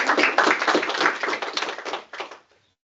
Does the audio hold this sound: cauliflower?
no